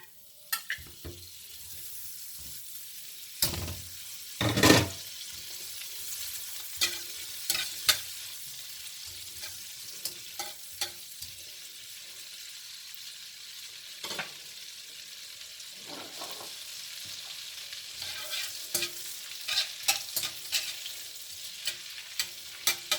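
Butter sizzling and frying in a wok while a tortellini cream sauce is being made, a steady hiss broken by sharp clinks and scrapes of stirring.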